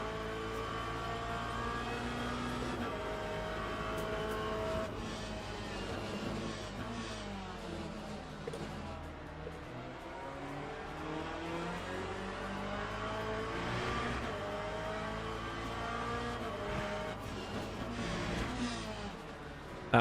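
A Corvette race car in Le Mans Ultimate hums with a continuous, faint engine tone whose pitch climbs and falls through gear changes, heard from the cockpit, with little talk over it.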